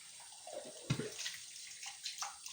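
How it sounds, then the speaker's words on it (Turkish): Dishes are rinsed under running tap water, with a steady splashing stream, occasional clinks and a few brief louder gushes, close by and unaccompanied by talk. "Dur bulaşığı durulayım da ondan sonra."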